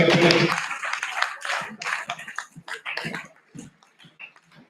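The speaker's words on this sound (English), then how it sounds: "Let us clap our hands for Nagapiripiri." Scattered hand clapping from the audience at a Karamoja technical team meeting launch. It starts as a dense burst, then thins into uneven, fading claps, with some talk and murmuring nearby.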